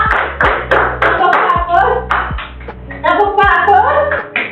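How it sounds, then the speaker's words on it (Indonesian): A group in a classroom claps in a counted pattern, with bursts of sharp, loud claps repeated in sets and a teacher's voice speaking between them. "Tepuk 1, Tepuk 2, tepuk 3, tepuk 4, tepuk 5"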